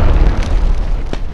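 A landmine detonates in Fallout New Vegas, a loud close boom with deep rumbling low end that rolls on briefly, ending in a sharp burst near the end.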